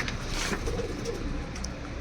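Pigeons, a mix of Mirabale-type birds, coo in a loft or market, soft low throaty calls repeating close by over a busy murmur of background noise.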